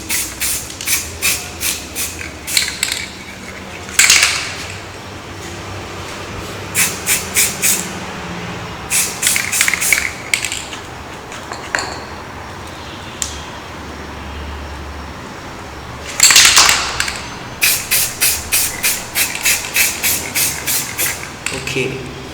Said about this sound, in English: so we're gonna spray the outside now